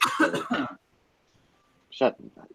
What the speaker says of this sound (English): Don't cough at me